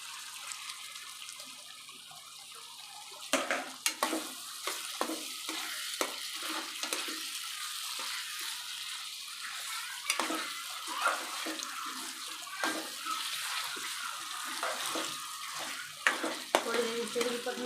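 Potatoes fry with cluster beans in a pan: a soft, steady sizzle under irregular scraping and clattering from stirring, close and fairly quiet, with no one speaking.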